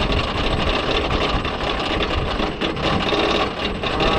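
RailBlazer single-rail roller coaster at California's Great America climbing its lift hill, a dense continuous clattering rattle of the lift chain mixed with wind rumble, close and steady throughout.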